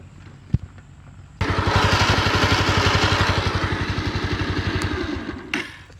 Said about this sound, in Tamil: இதோட சவுண்ட் ஒருக்கா பாருங்களேன் எப்படி இருக்குன்னு பார்ப்போம்.